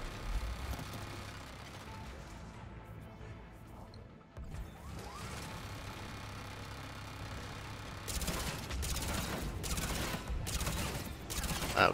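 Mass Effect 3 turret fire rattles in sustained bursts with crashing impacts, steady through the first half, easing briefly, then returning in heavier volleys near the end.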